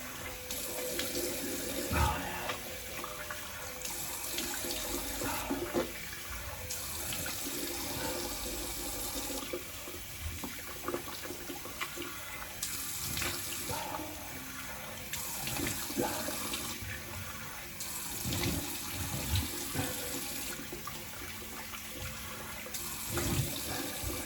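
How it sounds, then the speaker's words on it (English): Tap water runs steadily while shaving lather is rinsed off after a straight razor shave. A continuous close splash and gurgle swells slightly at moments, with no voices. "Go ahead and rinse off."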